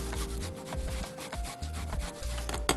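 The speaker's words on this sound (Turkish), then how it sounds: "Rendenin ince tarafından bir parça soğanımı rendeliyorum." Onion is grated on the fine side of a grater in close, rhythmic rasping strokes, each rub scraping in quick succession without any voices.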